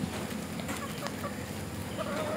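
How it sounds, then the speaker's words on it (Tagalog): Pet chickens kept behind and beside a house, clucking softly and repeatedly at close range over a steady background hum. "Ito guys yung alaga kong mga manok"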